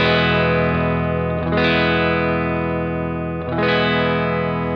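Electric guitar through an amp modeler with seamless amp switching, sustained distorted chords rung out in a steady pattern, each new strum blending smoothly with no gap in tone.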